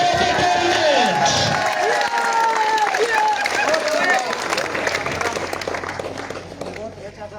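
Crowd at a cricket tournament final's award ceremony clapping and cheering loudly outdoors, with shouts mixed in, while an announcer talks over it and the noise tapers off at the end.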